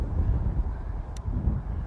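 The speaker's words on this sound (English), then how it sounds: "Hold on, that's pretty good. That's pretty good gust." A strong gust of wind buffets the microphone on a fishing boat during bass fishing on a grass mat, a continuous heavy low rumble with no talking.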